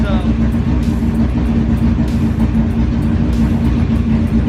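A car with a newly installed start button and harness bar runs with a steady, loud engine drone and a low rumble, close by and constant, while a voice talks over it.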